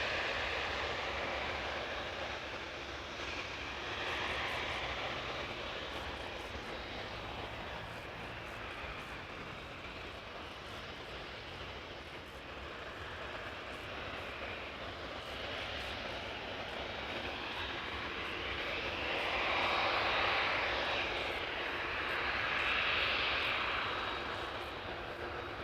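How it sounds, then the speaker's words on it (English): Jet airliners, a Boeing 777 and a Boeing 787 Dreamliner, roaring continuously at Amsterdam Schiphol Airport, a broad steady rumble that swells louder toward the end as an aircraft passes close. "We can expect to see a 777 and a Dreamliner coming in the foreground"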